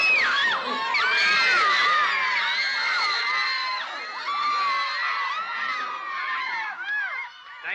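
A crowd of children and fans screams and cheers at a musical performance, a dense, continuous roar of high-pitched shrieks and whoops close by that swells early and keeps up, with voices mixed in.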